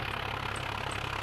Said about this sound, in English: why is the tractor so loud?